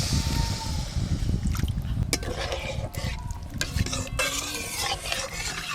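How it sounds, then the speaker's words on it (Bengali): Spice paste for a fresh pond-fish curry sautés in a pan, with steady close sizzling and scraping stirs and occasional utensil clinks throughout. "জ্যান্ত মাছের ঝালের জন্য মশলা কিন্তু ঠিক এরকম ভাবে কষে নিতে হবে।"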